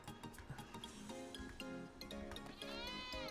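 A goat in the game Ark: Aberration bleats repeatedly, with wavering tonal cries rising and falling over a soft continuous backdrop, fairly quiet and steady throughout.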